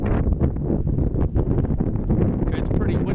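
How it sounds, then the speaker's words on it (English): Strong wind buffeting the microphone outdoors beside a glasshouse being built from recycled materials, a loud continuous rumbling roar with gusty swells throughout. "it's pretty windy, so I'll make this brief"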